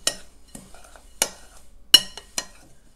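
A utensil stirs minced garlic and chopped parsley together in a bowl, with about six sharp scraping clinks spaced irregularly and quiet gaps between them, close and alone.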